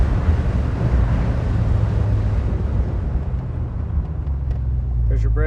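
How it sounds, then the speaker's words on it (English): A 1966 Ford Fairlane 500 XL convertible with disc brakes and a power booster, heard from a following car at high speed as it brakes hard. A dense, loud rush of wind and road noise eases slightly toward the end. "We're going to go ahead and do a high-speed braking on it."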